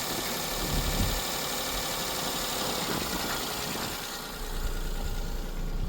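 A Vauxhall Astra engine idles with its alternator removed, giving a steady, low, fairly quiet mechanical hum with faint rhythmic knocking throughout.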